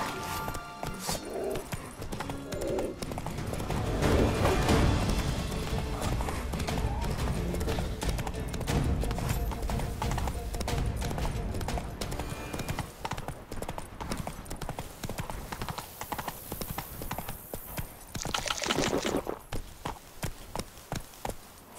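Steady rhythmic hoofbeats of a horse galloping in The Witcher 3 video game, continuous and fairly close for the whole stretch, mixed with game ambience and a brief brighter hiss near the end.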